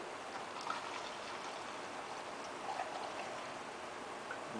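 Fuel trickles slowly into a small engine, a soft continuous liquid pour with faint splashy ticks, steady and fairly quiet, with no talk.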